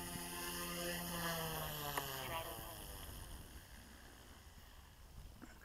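OMP M2 RC helicopter hovering on an initial test flight, its big rotors spinning fast in a steady high-pitched whine whose tones drift, easing slightly toward the end over outdoor wind noise.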